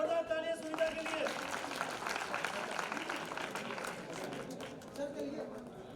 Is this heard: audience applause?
yes